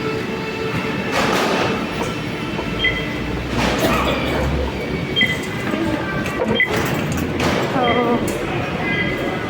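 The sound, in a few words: MRT train at station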